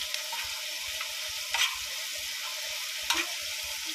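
Eggplant, tomato and onion cook in a pan with a continuous close sizzle, broken twice by brief louder clatters of stirring.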